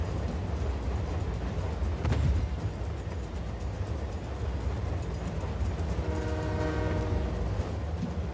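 A hijacked train runs in the video game Just Cause 4, a steady loud rumble of rolling wheels and engine, with a sustained horn-like tone sounding near the end.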